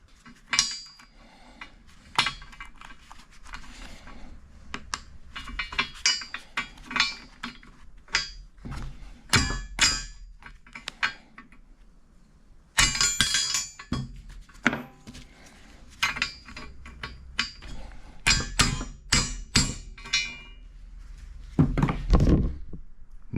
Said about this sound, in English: Neat trick to use a socket to hammer those on, isn't it?